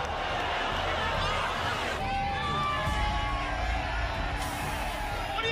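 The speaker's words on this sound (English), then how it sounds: "Thousands flooded Union Square, and when Sanat showed up, chaos ensued" Large crowd of thousands of underage teenagers packed into Union Square, New York, a dense, steady roar of babble and shouting with occasional whoops, heard from within the throng.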